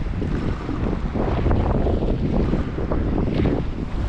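Strong wind at Belfast Lough near Whitehead on a breezy day, a loud, steady, close roar of gusts buffeting the microphone for the whole stretch, with no talk.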